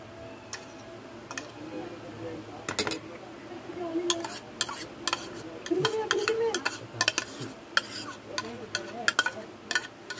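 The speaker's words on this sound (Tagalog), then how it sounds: "Haluin lang siya ng mabuti." Pumpkin (kalabasa) bread batter being stirred by hand in a bowl, with irregular clinks and scrapes of a utensil against the bowl and occasional louder taps, close up with faint background hum.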